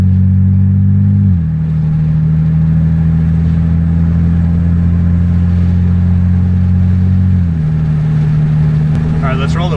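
A Pontiac G8 with a full modular catback exhaust, stock downpipes and valves open, idling with a deep steady rumble that steps up and back down in revs, loud and close, with a voice briefly talking.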